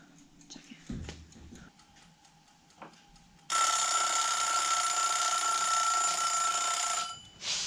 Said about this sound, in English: Chicken timer. Chicken timer. I'm gonna put it on